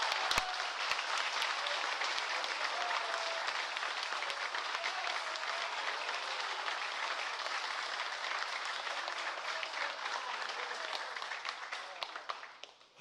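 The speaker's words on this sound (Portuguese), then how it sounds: "Você pode aplaudir." A church congregation claps steadily for a long stretch, a dense, moderately loud wash of applause that holds even before tapering off at the very end.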